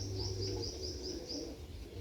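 A pigeon calls near a loft, a run of five quick, evenly spaced chirping notes over a low steady hum, then quieter background with no talking.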